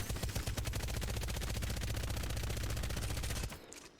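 A gun in the Apex Legends video game fires full-auto without a barrel stabilizer, a loud continuous rapid burst of shots that stops abruptly near the end.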